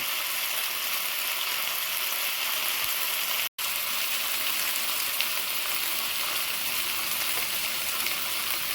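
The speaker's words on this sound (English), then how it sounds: "Pot, once it's hot, you put the chicken in." Chicken pieces fry in a hot pot for a stew, giving a steady, dense sizzle that runs unbroken apart from one brief dropout partway through.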